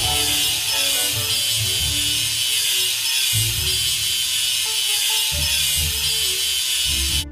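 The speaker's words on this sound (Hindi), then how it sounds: "चलिए वेल्डिंग सीवन को ग्राइंड करें।" Cartoon sound effect of a grinder working a weld seam on a ship's hull under repair: a loud, continuous gritty whir with bright hiss, surging in pulses and briefly dipping before cutting off at the end.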